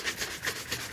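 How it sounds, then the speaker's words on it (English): Cloth buffing and polishing a leather shoe, heard as quick, rhythmic rubbing swishes, close and fairly loud, with no voices. "I'm just going to buff and polish shoes"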